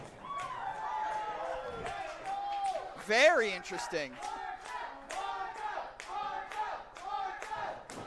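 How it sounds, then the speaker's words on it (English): Audience at a T2T Academy Pittsburgh wrestling show claps and cheers in a lively, rhythmic crowd wash, heard beneath excited commentary from someone speaking over it. "Listen to this audience."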